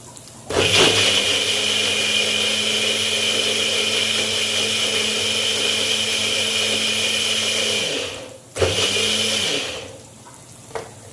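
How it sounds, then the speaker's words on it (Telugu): A mixer grinder blending tomatoes whirs loudly and steadily for several seconds, stops, then runs again in a short second burst before winding down. "టమోటా అయితే చూసారా, మిక్సీకి అయితే తిప్పేసేసాను"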